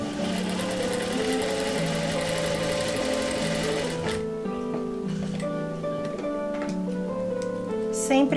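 A sewing machine stitches patchwork pieces in a steady, rapid mechanical whir, running continuously, then shifting to a softer, slower hum partway through.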